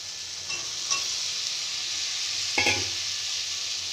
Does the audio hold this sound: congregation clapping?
no